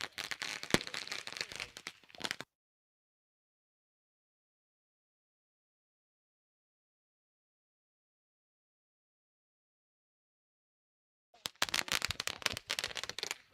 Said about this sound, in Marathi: फटाक्यांच्या आतषबाजीमध्ये स्वागत केले जात आहे